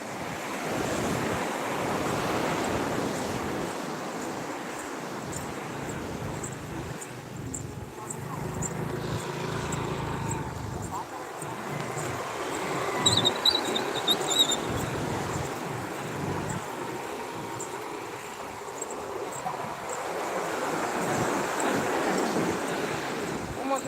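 Strong wind roars without letup along the fishing coast at Thoothukudi, mixed with the steady wash of surf, loud and close to the microphone for the whole stretch.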